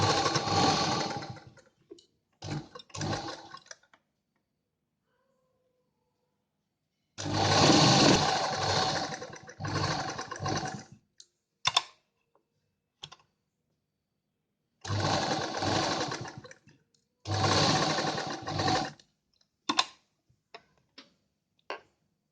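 A sewing machine stitches the side seam of an A-line inner collar jacket dress, running in several bursts of a few seconds each with short stops and quiet gaps between them.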